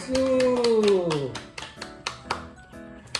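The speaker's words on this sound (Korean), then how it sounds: "박수 치자" A 17-month-old toddler claps hands: a drawn-out falling vocal sound comes first, followed by a series of separate, uneven claps spaced roughly half a second apart, close by.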